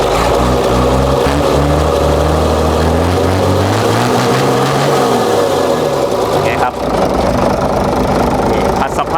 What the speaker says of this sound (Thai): เอาให้ดูการเร่งติดมือจัด